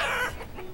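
Chickens in the city-building game Banished give a loud burst of clucking and crowing, then fade to quieter fowl chatter, with no talk over them.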